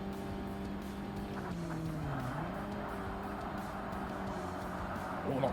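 A front-engine, rear-wheel-drive amateur race car with a carbon fibre bonnet drones steadily around a track in Forza Motorsport. The engine pitch dips briefly through a corner, then climbs again.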